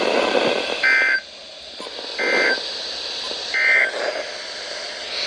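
NOAA Weather Radio Emergency Alert System test tones: three identical harsh electronic data bursts at a steady interval, loud and clear against a faint background, with no speech.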